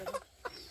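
Chickens clucking in a household yard, a few short, close clucks in two quick bursts with a pause between, no voices.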